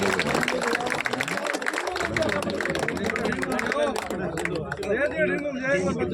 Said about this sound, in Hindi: एक बार फिर सभी बुजुर्गों को 2000 तालियां बजाकर स्वागत करें